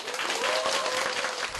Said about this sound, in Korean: 강연이 끝나고 감동이 담긴 박수가 쏟아져 나옵니다